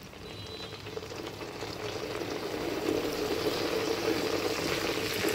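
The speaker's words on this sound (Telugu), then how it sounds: "నీళ్ళ చుక్కలు వేస్తే చూసారా చిట్ చిట్ అని అలా అవుతోందంటే అందులో తడి లేదు అని అర్థం" Water drops hit hot uttareni herbal oil heating in a pan, giving a continuous crackling sizzle that grows slightly louder and stays close, with no talking.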